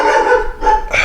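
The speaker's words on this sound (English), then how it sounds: "Sorry, that's my dog." A dog barks indoors, two or three quick, close, sharp barks in about a second, with a short gap between them and nothing else around.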